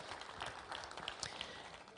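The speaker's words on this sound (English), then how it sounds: "I think God deserves a very big clap." An audience at a corporate launch event in Nsambya, Kampala, claps softly and steadily, the faint scattered hand claps heard from a distance with no voices over them.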